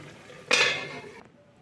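A metal lid set onto a cooking pot of Bengali kachki fish chorchori over a medium flame, one bright clattering clank that rings briefly and fades out.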